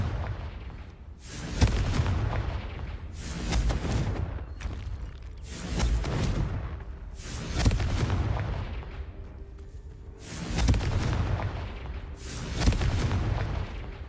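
Confringo fire-blast spell explosions in the Hogwarts Legacy video game: a series of about six loud booming blasts spaced a couple of seconds apart, each with a broad crackling burst and rumbling tail.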